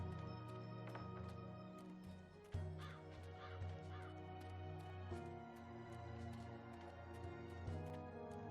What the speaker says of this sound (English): Where did that crow go?